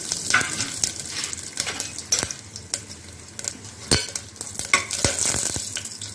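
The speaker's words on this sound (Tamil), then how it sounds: "பட்டை கிராம்பு, சோம்பு எல்லாம் போட்டு தாளிச்சிக்கலாம்." Cinnamon, cloves and fennel seeds crackle and sizzle in hot oil, with scattered sharp pops and a utensil stirring and scraping against the pan.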